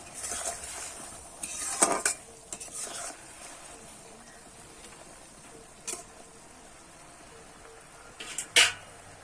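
Boiled raw green mango being stirred in a cooking pot: a quiet, mostly still stretch broken by a handful of scattered clinks and scrapes of a spoon against the pot.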